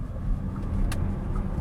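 A 2022 VW ID.4 electric car driving in sport mode with regenerative braking, giving a low steady road rumble and cabin hum, heard from inside with a faint brief click partway through and no talk.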